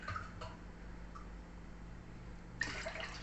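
Glasses of water are poured into a cooking pot while preparing sooji vadiyalu with sago, giving soft, faint splashing and trickling with a short burst of pouring near the end.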